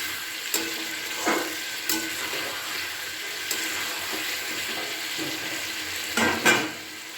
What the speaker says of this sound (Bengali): এবার দুটোকে একসাথে খুব ভালো করে মিশিয়ে নেব।